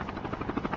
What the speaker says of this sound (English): there is actually a helicopter